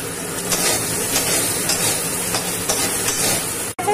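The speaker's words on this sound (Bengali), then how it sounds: "আলুগুলো হালকা ভাজা হয়ে উঠছে" Potato pieces fry in a little oil seasoned with salt and turmeric for a fish curry, giving a steady, close sizzle and hiss with faint stirring scrapes before a brief cut at the end.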